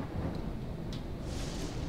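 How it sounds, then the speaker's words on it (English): Acid rain falls with a low rumble of thunder in the Empyrion Galactic Survival video game, a steady broadband wash of rain that stays constant throughout, with no speech. "Nice acid rain."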